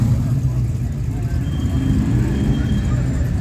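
Big-block Ford Falcon XC idling and revving at an Australia Day car parade in Hastings, a steady loud low engine rumble throughout with crowd chatter and voices underneath.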